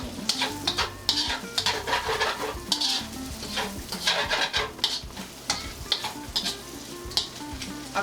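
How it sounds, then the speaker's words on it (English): Beef for Chinese takeout-style pepper steak sizzles loudly in a hot pan, with scallion whites and a spoon scraping and stirring continuously through the close, busy frying. "Stir for about a minute and add in my peppers and my onions."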